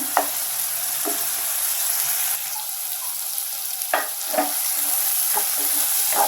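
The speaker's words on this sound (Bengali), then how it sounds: "মশলার মধ্যে কষিয়ে টমেটোটা হালকা নরম করে নেব।" Chopped tomatoes fry in a spice paste for a Bengali chewa baila fish chorchori: a steady close hiss of sizzling, broken by a few sharp spatula scrapes and taps against the pan.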